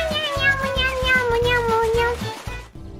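A human voice imitates a cat with a long, drawn-out meow, sliding down in pitch over about two and a half seconds, up close, followed by a short break.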